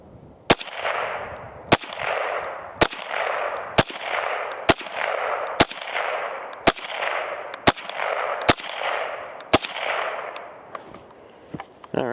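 Ten sharp shots from a Mossberg 702 Plinkster .22 rifle, fired with iron sights at a steel target, crack at an even pace about one second apart, each followed by a short ringing decay.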